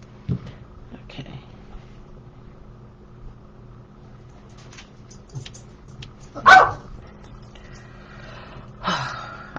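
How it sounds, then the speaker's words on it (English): A small schnauzer gives a couple of sharp, separated barks, one loud and one softer, amid quiet background sounds. "I love schnauzers, but let me tell you, they can be yappy little critters."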